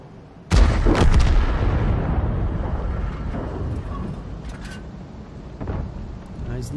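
Artillery gun from a GW Panther in a tank video game: one sudden heavy blast, then a long rolling rumble that slowly fades, with a few faint distant thuds afterward.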